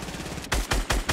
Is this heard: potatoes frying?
no